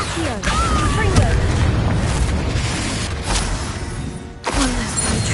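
Magical blasts from a Hogwarts video game's Confringo spell: heavy booming explosions with crashing debris, one near the start and another sharp burst toward the end, over a dense noisy rumble.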